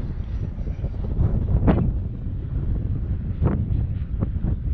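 Gusty wind buffets an outdoor microphone in a steady low roar with a few sharper gust swells, while an Eflite F16 Thunderbird RC jet is flown in the blustery conditions.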